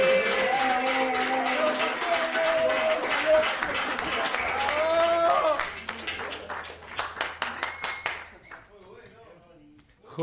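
A television studio audience applauds a singer, swelling into rapid clapping as the music and voices before it fade. The applause is close and lively, then thins out into scattered claps.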